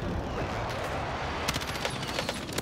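Gunfire in the shooter game Warzone crackles in rapid bursts of sharp shots, dense and fairly close, over a steady background rumble.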